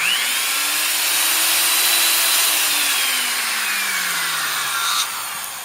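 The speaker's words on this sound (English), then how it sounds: "You can hear a little bit of the sound of the skidding bearing." A Black & Decker 757 heavy-duty 1/2-inch reversible D-handle corded drill running with a dry, skidding bearing, a loud, close, continuous motor whine whose pitch rises and then slowly falls, with a faint scraping rub throughout.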